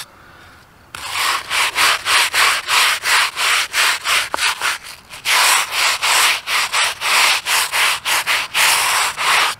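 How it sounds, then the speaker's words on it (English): A brush scrubs the exposed concrete foundation of a veteran's headstone in fast, regular back-and-forth strokes, loud and close. The rasping rhythm runs steadily with brief pauses after a quiet start. "I like to scrub the foundation also"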